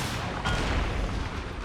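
Artillery fire in the video game Empire Total War during a siege battle: a dense, rumbling barrage of booms and crackling musketry, continuous and fairly loud, with no talk.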